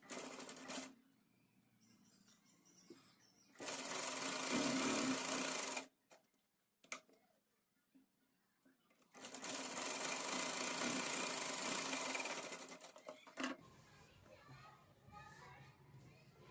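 A sewing machine stitches the neckline of a small child's Pathani kurta in two loud, fast bursts of several seconds each, separated by quieter pauses with faint room noise and brief handling sounds.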